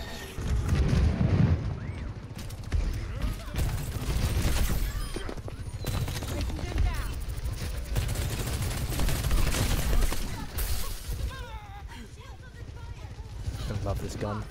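Sojourn's gun firing in a fast team shooter match, dense rapid bursts of gunfire layered with explosions and game effects throughout, with players talking over the chaos.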